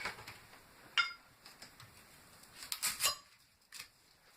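A knife cuts the ends off an onion on a board, with a few sharp clicks and taps at scattered moments, quiet against a faint background.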